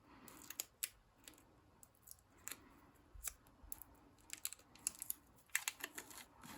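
Clear tape being snipped with scissors at a desk while making a prayer journal, giving quiet, scattered crisp clicks and snips with faint rustling between them; no talking.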